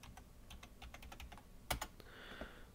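Someone types on a computer keyboard with quick, light key taps in an uneven run, ending in a sharper double clack and a brief rattle, all quiet and close.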